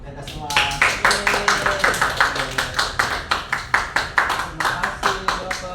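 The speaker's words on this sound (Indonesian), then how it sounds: "Tepuk tangan untuk kita semua." A small group of participants in a micro-teaching class claps in unison, a rhythmic series of about thirty sharp, evenly spaced hand claps close up, with faint voices in the background.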